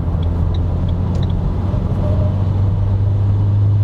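Fiat Talento combi minibus with a 1.6-litre 145 hp twin-turbo diesel cruising in fourth gear at around 80 km/h, a steady loud low engine drone and road rumble filling the cabin throughout.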